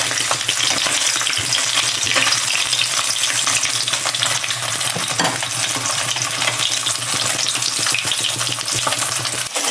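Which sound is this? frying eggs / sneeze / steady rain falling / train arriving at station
frying eggs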